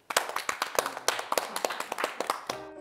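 A small group claps hands together in a brisk, steady run of sharp, close slaps lasting a few seconds before fading out.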